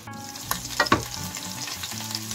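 Meatballs fry in a pan with a loud close sizzle, broken by a few clattering knocks of stirring near the start before the hiss settles again.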